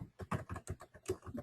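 Quick, uneven keystrokes tapped on a computer keyboard while a comment or question is typed into a blog post form, close and clear with no talking.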